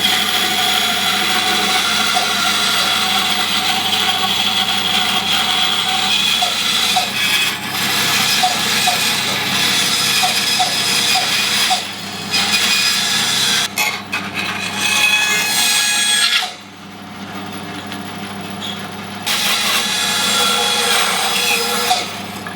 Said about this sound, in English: I'm just going to cut those out with the bandsaw as near to round as I can.